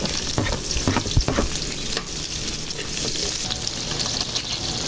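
Onion and garlic fry in a pan with a loud, close sizzle, broken by a few clanks and stirring scrapes, and no voices.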